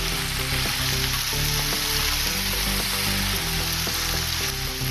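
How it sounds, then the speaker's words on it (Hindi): Finely chopped onion fries in oil with a loud, continuous, dense sizzle up close, joined by a faint rhythmic clatter from stirring. "थोड़ा सा मैंने इसको तेल में भून लिया है।"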